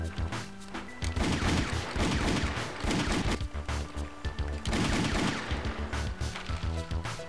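Revolver shots in the video game Hell Yeah!, a rapid string of loud booming blasts layered over busy game music and effects, near and dense, with a few short gaps between volleys.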